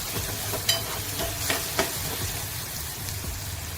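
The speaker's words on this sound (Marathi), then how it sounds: "त्यानंतर हळद परतून घेऊया." Turmeric and asafoetida sautéing in a hot pan give a soft, continuous sizzle, with a few light scrapes and taps from stirring, heard up close at low level with no talking.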